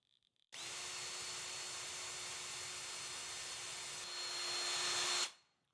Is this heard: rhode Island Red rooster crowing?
no